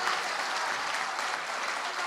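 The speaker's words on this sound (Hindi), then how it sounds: "ताली बजाओ जोर से" An audience at an outdoor Hindi poetry recital during a festival claps loudly and continuously in a dense, steady wash of applause with no voices over it.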